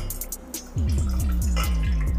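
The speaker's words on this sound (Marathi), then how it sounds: "आता याच्यामध्ये मी 1 ग्लास पाणी टाकते।" Water from a glass poured into an empty cooking pot, a steady splashing stream with rising gurgling pitch as the vessel fills, close and fairly loud, preparing dough for urad dal papad.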